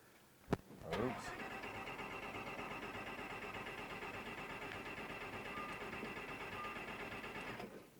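A Lamborghini engine catches with a sharp burst, then holds a steady, close mechanical drone for several seconds before it fades out.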